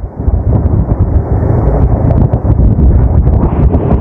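Strong wind buffets the microphone during a women's road cycling race, a loud continuous rumbling roar with gusty surges throughout.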